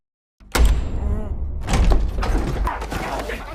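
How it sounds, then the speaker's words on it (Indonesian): A door is opened with a sudden thump followed by a rattling, shuffling noise of movement in an indoor room, close and fairly loud. "Won kemudian terbangun karena mendengar suara yang membukakan pintu"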